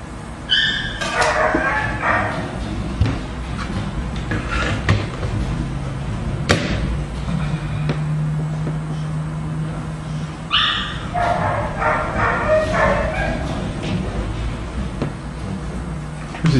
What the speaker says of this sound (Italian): Senti sto cane?